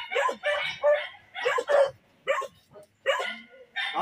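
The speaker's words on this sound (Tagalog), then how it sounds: "may aso ha?" A dog barks in short repeated bursts at a home doorway, fairly close, with people talking nearby between the yaps.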